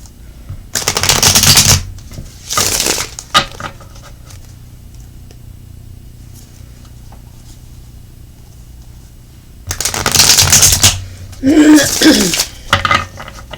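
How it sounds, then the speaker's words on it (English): Oracle cards are shuffled in two separate bursts of quick, crisp riffling, close and fairly loud, with a quiet pause between the bursts and a faint throat noise near the end. "Three more shuffles and we'll get right to it"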